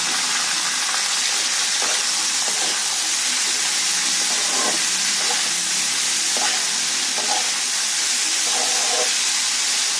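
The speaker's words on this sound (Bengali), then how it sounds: "এটা কমিয়ে অনেকক্ষণ ধরে ভাজতে হবে, তাহলে ভালো সেদ্ধ হয়ে যাবে।" Chopped chillies and other ingredients fry steadily in a pan over lowered heat, a constant close sizzle with scattered stirring clicks and scrapes throughout, no voices.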